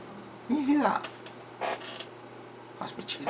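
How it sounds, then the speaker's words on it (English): A squeaky office chair creaking, a few close, short squeals and creaks spaced across a quiet room. "This chair is squeaky."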